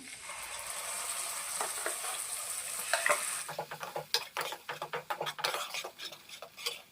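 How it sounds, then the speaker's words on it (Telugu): Tomato paste sizzles in a hot pan for a ridge gourd curry, then a spoon stirs and scrapes against the metal in a quick, rhythmic series of close clatters. "ఇప్పుడు టమాటా పేస్ట్ వేసుకుంటున్నా"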